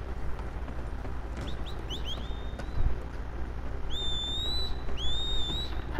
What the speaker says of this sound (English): Who is whistling?